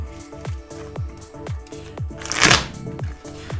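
A deck of Magic trading cards being shuffled by hand during a tabletop game, close and crisp, with a rapid regular series of snapping riffles and one louder bridging flutter near the middle.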